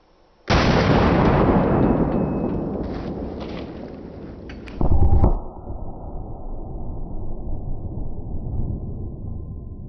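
An AK-74 fires a single 5.45 Hornady V-Max round into meat: one sharp, loud report with a long, fading outdoor echo, then a short thump a few seconds later and a low, rough rumble.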